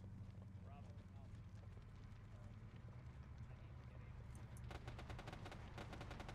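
Automatic weapons fire in the military game ArmA, starting as sparse distant shots under a steady engine rumble and voice chatter, then rising into a rapid, sharp burst of repeated cracks near the end.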